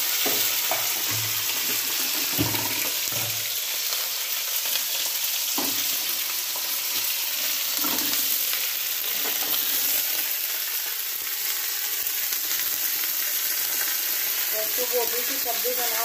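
Panch phoron seeds frying in hot reddish oil for a cauliflower and pea dish, a steady close sizzle with soft crackles and occasional stirring clinks.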